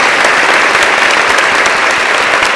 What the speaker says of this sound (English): Everybody clap for your teacher.